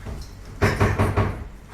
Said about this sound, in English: actually he found his kitchen wardrobe or kitchen cupboard is actually being opened and closed